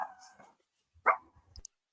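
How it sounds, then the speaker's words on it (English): A dog lets out a single short bark mid-clip, after an earlier stretch of low whining tones, with faint scattered noises following; no one speaks. "somebody's dog"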